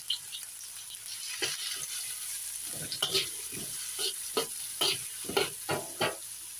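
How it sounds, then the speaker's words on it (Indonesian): Ginger and garlic sautéing in a pan for a goat meat dish, with soft sizzling and repeated stirring scrapes that come in irregular bursts through the clip, close and moderately quiet. "Kita tumis jahenya dulu ya teman-teman ya."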